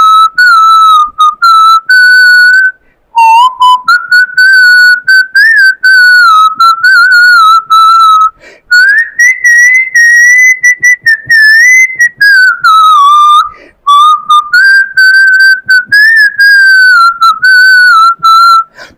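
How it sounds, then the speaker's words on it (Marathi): A person whistles a song solo, a loud, clear, melodic whistle that runs in long phrases with brief breaths between them and nothing else underneath. "मी शिट्टीतून गाणं म्हणून दाखवणार."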